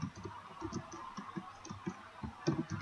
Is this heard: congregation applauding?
no